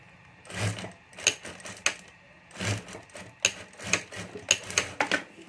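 A sewing machine stitches a zip border and zip strip onto a homemade pencil pouch, running in short, uneven bursts with brief pauses between, close and moderately loud.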